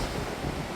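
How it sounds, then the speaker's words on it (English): Ocean waves at sea on a Caribbean cruise day, a steady, broad wash of surf mixed with wind rush, continuous and even with no distinct breaks. "listening to the waves"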